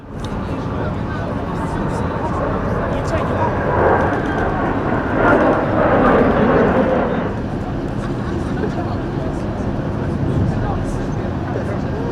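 A formation of four jet aircraft flying at the Dubai Airshow 2025 produces a loud, steady, broadband roar that swells briefly in the middle of the passage, with faint voices in the background.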